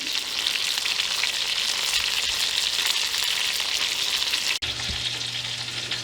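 Steak sizzles in a hot cast iron skillet, a continuous close crackling hiss that stays even throughout, with a brief bump and faint low hum near the end.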